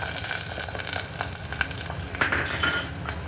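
Onion fries in hot oil with mustard seeds and cumin for misal, a dense continuous sizzle with light crackles and a few scraping stirs, close and fairly loud.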